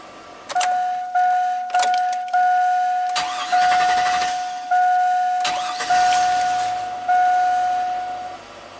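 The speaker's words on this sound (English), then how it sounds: "Fires right up on the second crank." A GM Chevy V8 truck engine cranks and fires up repeatedly in several short cycles, each a loud start with a steady chime ringing underneath, then settling briefly before the next restart.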